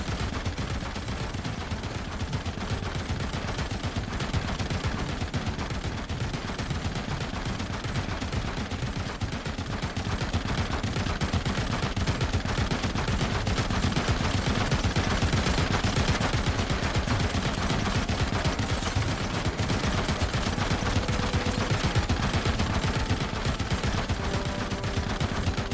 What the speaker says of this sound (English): They got a whole row of machine guns down there.